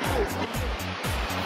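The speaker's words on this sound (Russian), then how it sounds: "Пошла вода сливаться, вот шум воды уже слышен" Water drains out of a canal lock chamber during a May sailing regatta on the Masurian lakes, a steady loud rushing roar that fills the whole stretch, with a low rhythmic engine-like thrum underneath.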